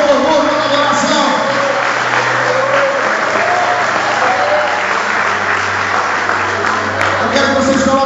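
A church congregation claps in loud, sustained applause while a low keyboard tone holds underneath.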